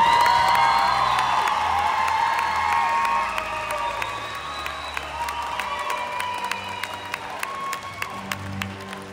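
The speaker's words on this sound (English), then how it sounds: "Let's give all our Modis a round of applause." A large audience at a middle school promotion ceremony applauds and cheers, with whoops and shouted voices loud at first and then easing into steady clapping with sharper individual claps toward the end.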